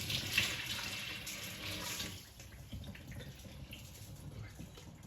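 Running water pours and splashes steadily over rice in a strainer, then softens to a lower trickle and gurgle as it drains through.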